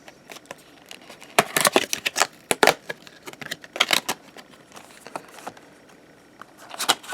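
Scissors snip through foil card packs of premium Champion cards with quick, crisp cuts and rustling bursts scattered through the clip, close to the listener.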